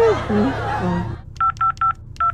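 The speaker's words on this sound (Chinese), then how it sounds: "还不赶紧给家里打个电话？" A telephone is dialed: a voice with a chuckle comes first, then five short, clear, evenly spaced keypad beeps ring out close by.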